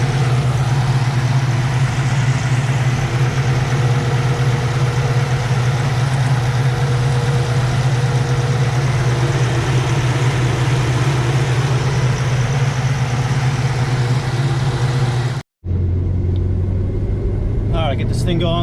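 Lumpy, steady idle of an LSX 454 V8 swapped into a Trans Am Firebird, loud and close with a strong low rumble throughout, cutting out briefly near the end before resuming with a quieter, different tone.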